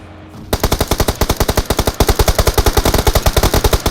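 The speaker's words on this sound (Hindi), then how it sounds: "बहुत गोली चल रही है।" Rapid automatic gunfire in the BGMI (PUBG Mobile) battle royale game, a loud, steady stream of sharp shots after a brief quiet lead-in, with no talking.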